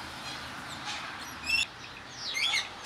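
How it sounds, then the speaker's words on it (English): Pet parrots chirp and tweet in the background indoors, giving a few short, sharp bursts of calls at a moderate distance. "Two parrots in particular. You can probably hear them in the background about now."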